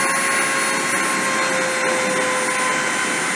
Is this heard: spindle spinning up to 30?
yes